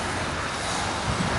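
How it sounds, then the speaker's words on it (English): Strong, wet November wind blows outdoors near Stachek Avenue by the Kirovskiy Zavod in Saint Petersburg, a steady broadband roar that stays loud and even, with a slight gust near the end. "The wind is more intensive than usual,"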